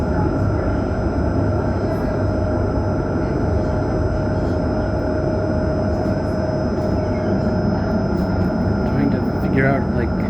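Ride aboard the Jerusalem Light Rail, a steady loud rumble of the moving train car with a constant hum throughout, faint sounds rising near the end.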